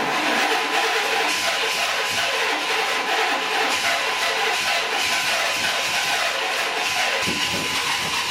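Chevrolet K1500 pickup engine idling slightly rough after a fuel injector upgrade, a steady close mechanical drone with constant hiss and faint uneven pulsing throughout, no talk.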